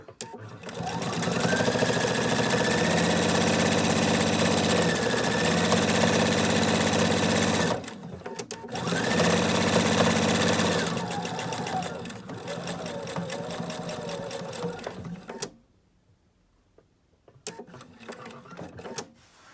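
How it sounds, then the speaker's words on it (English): A sewing machine runs in long steady bursts as it stitches a cloth napkin, pausing briefly at a corner pivot before sewing on, then falling silent near the end. "Needle stop down, lift your presser foot up, pivot, and keep on sewing."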